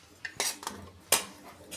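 A small metal ladle scoops cooking oil, striking the vessel in a few quick, bright clinks spread over a couple of seconds. The sound is close and quiet, with no speech.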